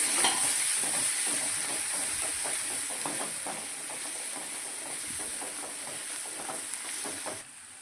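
Kashmiri chili and cumin powder being stirred into fried onions, with a steady close sizzle and hiss of frying and repeated soft scraping strokes of stirring running through to the end.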